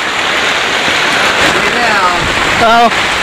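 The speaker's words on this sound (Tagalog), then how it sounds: "At talagang sobrang tindi na ng baha." Heavy rain pours and floodwater rushes in a steady, loud wash during a typhoon, with a person's voice briefly rising over the constant downpour.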